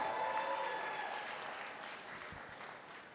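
A crowd applauds a singer at a Juneteenth kickoff celebration, a soft, distant wash of clapping that thins gradually over a few seconds.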